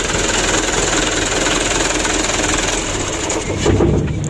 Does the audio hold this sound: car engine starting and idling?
yes